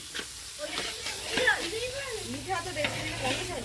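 Meat sautéing in oil in a pot for a family winter picnic, a steady crackling sizzle running throughout beneath overlapping voices in conversation.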